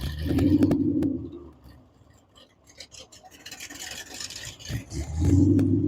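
A 1932 Ford hot rod with a blown 392 Hemi rumbles loudly past, with a deep, heavy engine note swelling near, fading into background noise, then surging loud again as it goes by.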